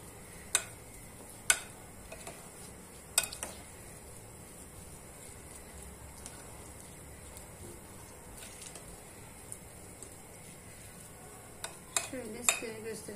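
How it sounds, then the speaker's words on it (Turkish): A spoon stirs an eggplant meze mixture with melted butter and kashar cheese in a pan, giving a soft steady scraping with a faint sizzle and occasional sharp clicks against the pan, close and quiet. "Karıştırıyoruz."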